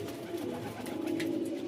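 A female pigeon back on the roof gives low, steady cooing, soft and near, with faint background sounds and no clear speech.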